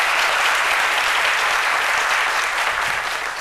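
Steady, loud applause from an audience at a live French-language event fills the whole stretch as dense continuous clapping, easing only slightly near the end.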